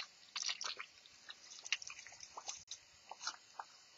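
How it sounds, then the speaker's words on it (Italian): Water pressure-irrigated into the substrate of a cork oak air layer makes faint, irregular wet squishing, dripping and gurgling sounds close by, with no speech. "Qui c'è il foro di irrigazione. Vedi come si propaga l'acqua. Io faccio in questa maniera. Irrigo a pressione proprio."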